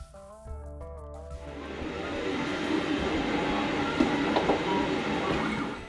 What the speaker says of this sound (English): So I'm going to go ahead and access the SD card and start this 3D benchy.